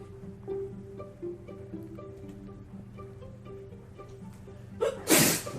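A single sharp sneeze bursts out near the end, loud and close, after a stretch of steady low hum.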